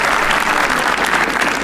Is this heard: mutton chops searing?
no